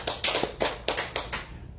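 Congregation in a church clapping hands in unison, about six sharp claps in a steady rhythm, fairly close and fading at the end.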